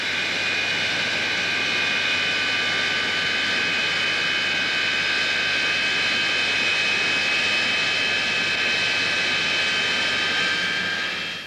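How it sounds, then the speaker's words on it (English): An English Electric Lightning jet with twin Rolls-Royce Avon engines roars steadily, a loud, continuous high whine over broad rushing noise that holds throughout without voices. "The two Rolls-Royce Avon engines develop more power than a whole squadron of wartime bombers."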